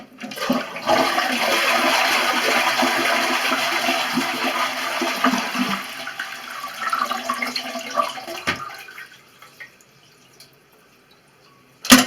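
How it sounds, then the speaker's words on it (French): A toilet cistern is emptied by flushing with its water supply shut off, a loud rushing gush that drains away into trickles and drips, with a clunk at the end. "on ferme l'eau sur le côté là, et on vide la cuve"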